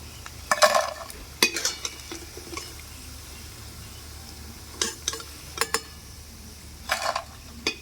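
Raw banana pakoras fry in hot oil with a soft continuous sizzle, broken by several brief bursts of bubbling and scraping as they are stirred and turned in the pan.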